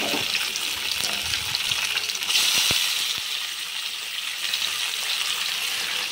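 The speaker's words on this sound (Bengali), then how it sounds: "এবার আমি মাছগুলো এক একে সব দিয়ে ভেজে নেব, ভালো করে লাল লাল করে ভেজে নেব।" Fish pieces frying in hot oil in a wok (kadai), a steady close sizzle and crackle with a few soft clinks of a spatula or utensil.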